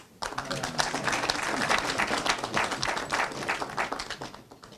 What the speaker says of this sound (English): And I'm waiting for the applause.